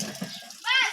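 Water splashes and sloshes during Holi colour play at a school, close and brief, with a voice rising over it near the end.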